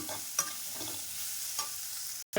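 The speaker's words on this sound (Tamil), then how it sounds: "இப்போ நான் இந்த வெங்காயம் போட்டுறேங்க" Onions frying in a pan for kurma, a quiet, steady sizzle broken by a few soft stirring scrapes, heard up close with no voices.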